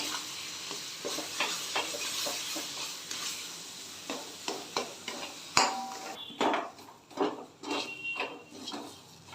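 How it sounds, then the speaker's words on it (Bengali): Jackfruit kachori filling being stirred in a kadai as its water cooks off, a soft sizzle under rhythmic scraping strokes of a spatula against the pan, and the strokes grow louder and more uneven toward the end. "পুরটা ভালো করে নেড়ে চেড়ে নেব যাতে একেবারে জলটা শুকনো হয়ে যায়।"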